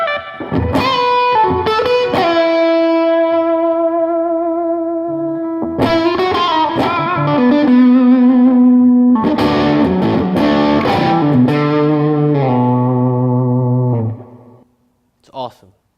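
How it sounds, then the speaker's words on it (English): An electric guitar with gain runs through a Tone 102 reverb pedal, playing sustained, singing notes and chords that ring out with heavy reverb tails for most of the passage before cutting off, followed by a brief final hit. "There's nothing like a ridiculous amount of reverb."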